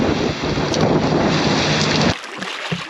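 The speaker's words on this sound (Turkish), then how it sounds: "Çok fena yağıyor." Heavy rain driven by strong wind during a fishing trip, a dense, loud roar with microphone buffeting that cuts off abruptly near the end, leaving quieter gusts and rain.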